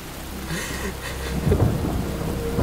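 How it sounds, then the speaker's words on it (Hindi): Heavy rain pours down while thunder rumbles low and deep, the roll swelling louder partway through over a constant wash of falling water, with no voices. "काफी अरसे बाद बारिश हुई है, सोचा थोड़ा मजा ही ले लूं।"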